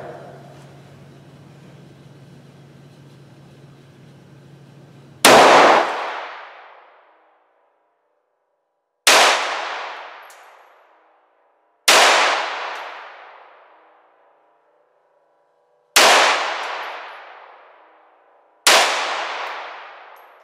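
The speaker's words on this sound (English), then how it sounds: "All I've got to do is pull the trigger. The gun will go off now." Five sharp handgun shots fired in single action ring out one at a time, each loud crack decaying into a long echoing tail, spaced a few seconds apart after a quiet hum.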